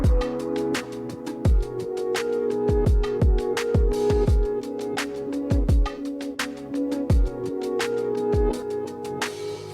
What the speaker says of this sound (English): pitched it down 2 semitones, chopped it up and put it in an impact, and the chop sounds like this.